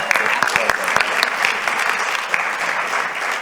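An audience gives a round of applause, with sharp individual claps standing out early before settling into a steady, full clapping sound.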